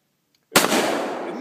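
An outdoor explosive charge detonates to blow up a tree: a single sudden, loud blast after a moment of silence, followed by a long, dense roar of rumble and debris that slowly fades.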